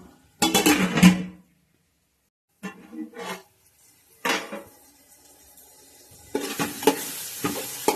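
Masala being fried and stirred in a pan for a home-style Chettinad pepper chicken, heard as short bursts of sizzling scrapes separated by near-silent pauses, ending in a sustained louder sizzle.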